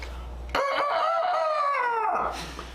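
A single loud rooster crow, close and clear, rising and holding for about two seconds before trailing off over a low background hum.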